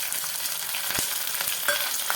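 Green chillies, mustard seeds and curry leaves fry in hot oil for khaman dhokla tempering, giving a steady close sizzle with faint stirring taps and no talk.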